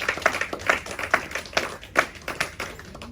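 A church congregation claps in a steady rhythmic beat while acclaiming the Holy Spirit at a French-speaking gathering in Paris, with repeated crisp hand claps at roughly half-second intervals.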